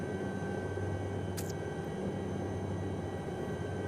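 A Lama helicopter taxiing in the X-Plane 11 flight simulator gives a steady, unbroken engine and rotor drone at constant loudness, with a brief higher chirp partway through and no talking.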